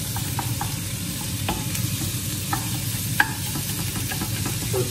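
Spices fry in a pan with a continuous hiss, marked by scattered small pops and light utensil taps nearby.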